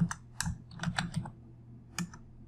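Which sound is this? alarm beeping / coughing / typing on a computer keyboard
typing on a computer keyboard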